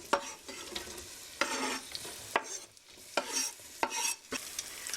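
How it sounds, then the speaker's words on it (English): Onions sizzle in butter and olive oil in a large soup pot, a soft frying hiss broken by repeated scraping and clattering stirs close by. "Now I have in a large soup pot 4 tablespoons of butter and a 1/4 cup of olive oil heating up, and I'm going to add my onions."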